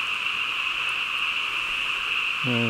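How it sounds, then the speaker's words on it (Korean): A loud, dense chorus of frogs croaks continuously from below a reservoir embankment at a night fishing spot, a steady high trilling wall of sound, with a brief tonal sound entering at the very end. "개구리 소리가 엄청 납니다."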